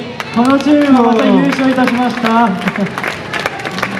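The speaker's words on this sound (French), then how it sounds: "Veuillez les applaudir" Audience clapping at a Japan Expo stage in Marseille, scattered claps and crowd noise running beneath a clear amplified voice speaking over them.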